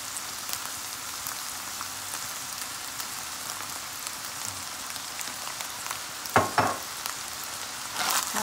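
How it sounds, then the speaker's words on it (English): Ground turkey sizzles steadily in a pan with a splash of Chinese sauce, a dense close crackle with a few louder clatters of utensil stirring near the end. "So our ground turkey has been cooking up nicely."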